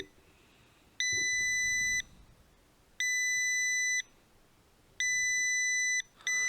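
An ESP32-driven buzzer sounds a piercing 2000 Hz electronic tone in one-second bursts separated by one-second silences, three full beeps and the start of a fourth, loud and close.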